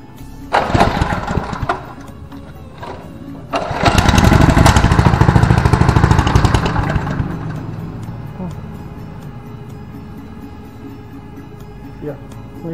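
A Cakar Baja cultivator engine that won't stay running is pulled over a couple of times, then catches and roars loudly up close for a few seconds before sagging and fading as it dies down.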